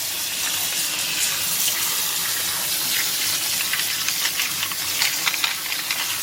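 Water running steadily from a tap to rinse suds off LEGO parts in a sink, a continuous close hiss and splash with small shifts in the flow.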